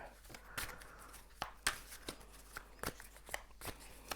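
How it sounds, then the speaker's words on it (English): Tarot deck being shuffled by hand, a quiet series of papery riffles and card slaps at irregular intervals, close and faint with no talking. "I'm gonna shuffle."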